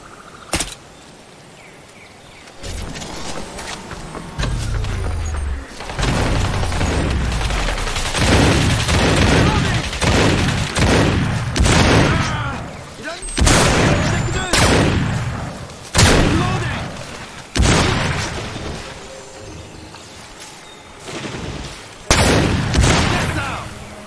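Heavy gunfire and booming blasts from a Crysis Remastered battle, repeated loud shots and explosive bursts rolling through nearly the whole stretch, with shouted voices now and then under the din.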